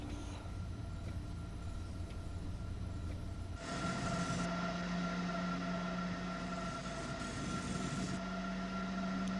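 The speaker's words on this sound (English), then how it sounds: "Proper intercity, local haul train, some nice coaches." A BR101 locomotive hauling intercity coaches in the Train Sim World 2 game on the Köln–Aachen line, its steady engine and rail rumble running continuously and fairly loud, with a tonal drone that rises partway through, no voices.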